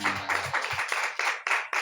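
Congregation clapping at a French-language church teaching session, a run of uneven hand claps that rises to a steadier beat, with a faint voice at the start.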